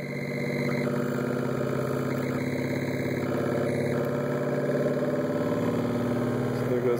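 A prototype magnetic motor runs under preliminary testing at partial power, giving a steady droning hum with a buzzing, pulsing texture throughout, with nothing else standing out.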